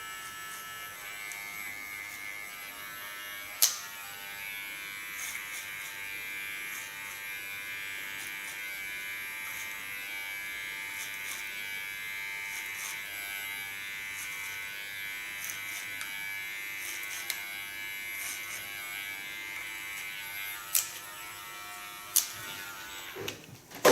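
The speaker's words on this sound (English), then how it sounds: "Hold the clipper in the same position, leaning on the end of the clipper." An electric hair clipper trims a man's beard, giving a steady, close mechanical buzz that runs without a break, with a few faint clicks and small bumps from the blade moving along the jaw.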